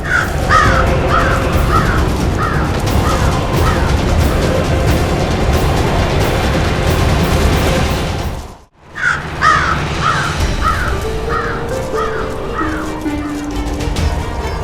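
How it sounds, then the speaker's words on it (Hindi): Repeated crow caws in short rhythmic bursts ring out over a dense, loud bed of music and ambience in a Hindi TV drama scene, broken by a brief dropout before the cawing resumes. "इस कौवे का आना आने वाली अनहोनी का संकेत है।"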